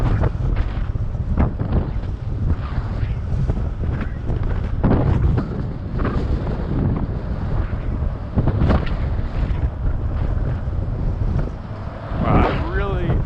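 Strong wind buffeting the microphone while cycling through New York City streets at night, a continuous loud low rumble with gusts, with someone talking over it.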